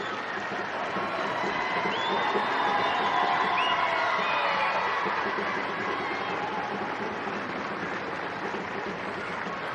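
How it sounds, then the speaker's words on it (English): Enniskillen Town United supporters at a junior cup final give their substituted captain a long, steady round of applause, with distant crowd cheering at moderate volume throughout the open football ground. "a rapturous round of applause from the Enniskillen Town United supporters for their captain"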